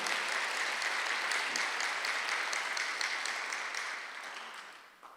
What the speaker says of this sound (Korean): 박수로 하나 더 주세요